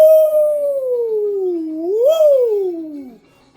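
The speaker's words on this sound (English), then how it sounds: "But howling, dude, everyone in the building was howling." Concert crowd howling like wolves during a Halloween-themed rock show in Albany, heard as a loud, sustained rising and falling howl lasting about three seconds.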